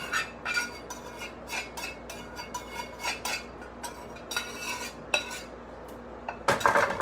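A utensil scrapes cooked egg off a pan while breakfast tacos are made, repeated close metallic scrapes and clinks in an uneven rhythm, louder clatter at the end, no one talking.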